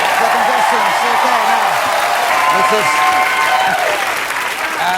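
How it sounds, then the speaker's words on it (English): Loud, sustained applause from a large television studio audience at a comedy improv show, continuous throughout, with a voice speaking underneath it. "this is very generous applause"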